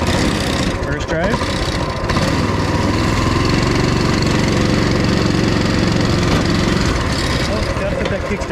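A Coleman mini-bike's small engine runs steadily and loudly at close range throughout, a continuous droning putter with some wavering, and a voice is heard briefly over it near the start.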